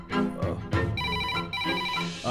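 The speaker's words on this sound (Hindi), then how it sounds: "मुझे फोन अटेंड करना है" A telephone rings in a dubbed Hindi film scene, a melodic electronic ringtone rising over earlier voices and continuing steadily and fairly loud to the end.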